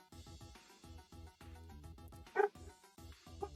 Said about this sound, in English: No barking, Arwen.